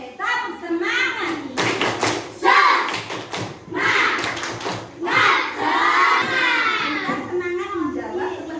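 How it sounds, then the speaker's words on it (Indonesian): A classroom of children performs a rhythmic spirit clap, bursts of sharp unison claps mixed with loud group chanting and a teacher's voice, the whole room close and lively. "Oke, tepuk semangat."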